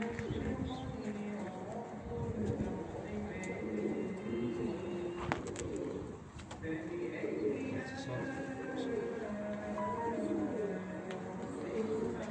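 Racing pigeons, including a black-tailed male, coo in repeated low murmuring phrases at a loft, with other birds chirping and people talking nearby throughout.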